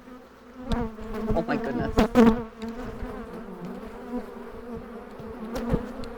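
A dense swarm of bees humming inside a hive box, a loud close buzz with rising and falling pitch and nearby knocking or handling sounds; a woman briefly exclaims over it.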